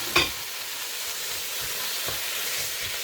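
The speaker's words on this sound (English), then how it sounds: "We are ready to fry our meat." Meat frying in a pot already holding sautéed onions, ginger and garlic: a continuous close hiss of hot oil with one sharp clack near the start and a few soft stirring knocks.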